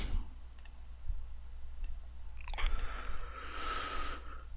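Computer mouse clicks during CAD part modelling, a few sharp, separate ticks scattered over a quiet room tone with a low hum, followed by a brighter sustained tone, and no talking.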